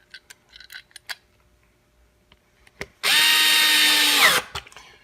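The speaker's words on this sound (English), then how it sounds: "get yourself a screwdriver, whether it's electric or manual, and just screw it in." Electric screwdriver drives a screw into wood in one loud sustained whirring burst of about a second and a half, preceded by scattered light clicks and handling taps.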